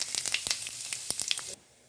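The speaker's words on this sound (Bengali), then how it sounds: "তেল গরম হয়ে গেছে, দিয়ে দেবো শুকনো লঙ্কা, তেজপাতা আর দিয়ে দেবো সাদা জিরে।" Dried chillies, bay leaf and cumin seeds hit hot oil in a pan, giving a brief burst of crackling, spitting sizzle with sharp pops for about a second and a half before cutting off.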